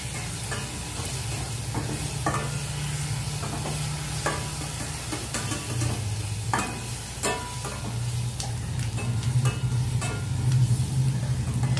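Eggs fry in oil in a pan for egg butter masala, with a continuous close sizzle and intermittent scraping stirs over a low steady hum.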